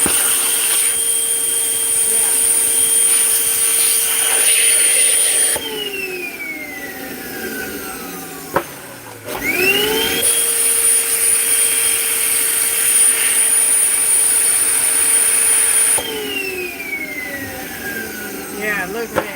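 A loud electric inflator blows up a large bear balloon with a steady high-pitched whine. The motor cuts off and restarts, and its pitch sags and rises with each stop and start.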